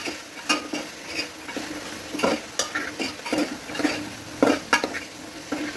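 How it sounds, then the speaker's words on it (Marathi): A spatula scrapes and stirs masala rice spices, chutney, garam masala and salt, in a sizzling pan, with a dozen or so irregular clattering strokes over a soft frying hiss. "हे पण मसाला सगळा मिक्स करून घेणार आहे, सगळीकडे मिक्स व्हायला पाहिजे"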